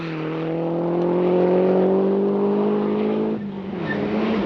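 Rally cars drive a forest stage at the 1991 Mazda Winter Rally, including a Toyota Celica and a green and white Cosworth. An engine revs strongly and steadily, then drops in pitch near the end as the car passes.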